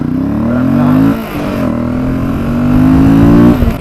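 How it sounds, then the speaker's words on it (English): A motorcycle engine drones steadily with layered harmonics under heavy wind buffeting, dipping briefly near the middle before rising again toward the end. "you can still hear the engine"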